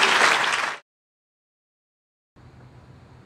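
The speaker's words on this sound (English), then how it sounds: "how about a great round of applause?" An audience at a political talk bursts into loud, dense applause for under a second, then it cuts out into silence before faint room noise returns.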